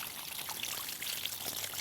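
Water pours and splashes steadily while a blood-stained hunting game bag is rinsed out after an argali hunt, making a close, continuous rushing trickle with no talk.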